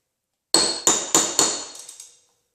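A steel hammer strikes a dented body panel on a 2015 Honda Civic, four sharp metallic blows in steady rhythm followed by three lighter quick taps, each ringing briefly before fading; no talking.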